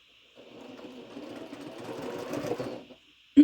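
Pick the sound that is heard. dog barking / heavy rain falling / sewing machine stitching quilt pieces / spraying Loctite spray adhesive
sewing machine stitching quilt pieces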